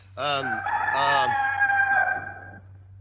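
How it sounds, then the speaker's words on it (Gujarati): A rooster crows nearby, one loud drawn-out call with a rising start and a long trailing end, over a low steady hum. "કુકડો બોલ્યો વાણું આવી ગયું"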